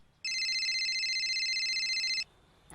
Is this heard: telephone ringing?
yes